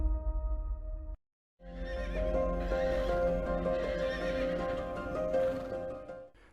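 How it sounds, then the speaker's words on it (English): Karabakh horses give loud, close whinnies and neighs while hooves clip-clop underneath, after a brief moment of silence at the start. "Karabakh horses are considered as national symbols and are the ancient breed of horses in the Caucasus"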